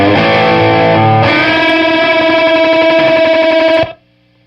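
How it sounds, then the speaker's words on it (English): A Belle Epoch Deluxe tape echo pedal in oscillation mode swells into a loud, dense, self-feeding wash of repeating tones that shifts pitch partway through, then cuts off abruptly into near silence. "So, echo oscillation button here."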